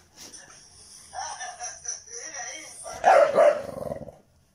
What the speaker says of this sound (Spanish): ¿Vos decís que ladrando se va a acercar más rápido el juguete?